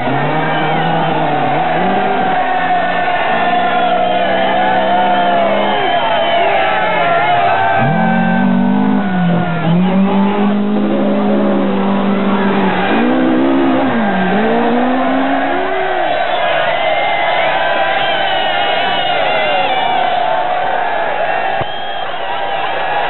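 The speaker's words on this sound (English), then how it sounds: "fueled by the roar of engines and the cheers of thousands gathered at their favourite vantage point" Rally car engines roar and rev continuously at night during the 1980 Australian Rally Championship, rising and falling in pitch as cars pass, with a crowd's cheering mixed underneath throughout.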